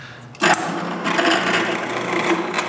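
A power drill bores holes for drawer handles in a varnished wooden washstand cabinet, whirring loudly and steadily after a sharp start, close by with no talk.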